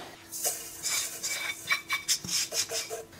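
Salt dry roasting in a pan, a run of quick scraping, rasping stirs and light metallic clinks from a spoon, close and fairly quiet, with no talking.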